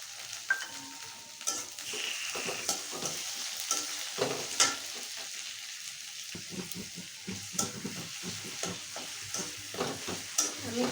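Chopped tomato, onion, garlic and green chili fry in a pan, a steady close sizzle with repeated scraping stirs throughout, no talk.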